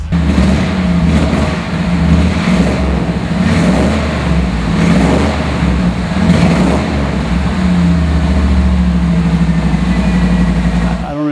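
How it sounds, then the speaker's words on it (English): A fuel-injected car engine rumbles steadily out the tailpipes, a loud, close, low idle with slight revving swells, running alone for about eleven seconds before cutting off. "check out the sound out the tailpipes because it sounds really nice"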